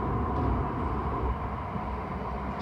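A TfL Rail train runs towards Heathrow Terminals 2 and 3, giving a steady low rumble and rolling noise heard from inside the carriage, constant with no talk.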